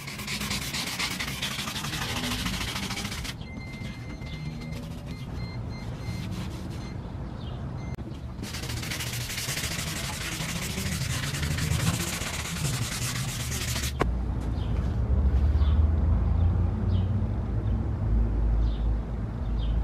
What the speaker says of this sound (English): we're just gonna rub the whole body with it